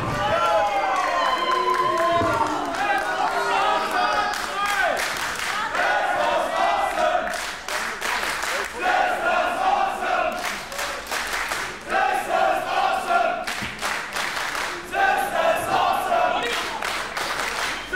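A wrestling crowd roars and chants at a live show, with rhythmic clapping bursts and cheers rising and falling throughout, while a commentator talks over the noise.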